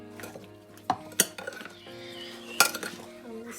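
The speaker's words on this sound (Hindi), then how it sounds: "हम इसको मिक्स कर लेंगे।" Cream is stirred into fruit chaat in a bowl, giving a few sharp spoon clinks against the dish between soft, quiet mixing scrapes, close up with no talking.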